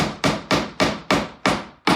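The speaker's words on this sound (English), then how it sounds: "And then I will just tap it with a hammer." Hammer tapping a glued wooden dowel into a drawer, seven sharp, evenly spaced knocks about a quarter second apart, close and fairly loud, each ringing briefly before the next.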